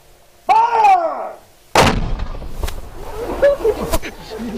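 A historic cannon is fired at Fort Delaware: a sudden heavy boom, loud and close, then a long reverberating rumble that trails off, with a person's voice heard shouting just before the blast.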